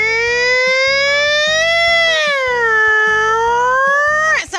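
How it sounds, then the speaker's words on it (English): A toy fire truck siren plays a loud, steady wailing electronic tone that rises and falls slowly over a pulsing beat, close and continuous, cutting off abruptly at the end. "here's where the siren is so people know that a fire truck is on the way."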